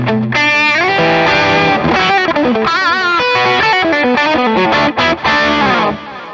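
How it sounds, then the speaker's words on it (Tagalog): A split-coil electric guitar run through distortion, shown in a band's rig rundown, plays a loud, dense run of chords and notes with no talking, briefly cutting out near the end. "So, tunog niya pag naka-distortion."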